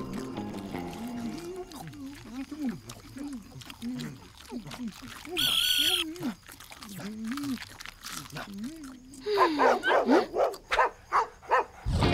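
A dog gives a series of wavering howls and yips, up close, followed by a few sharper barks near the end.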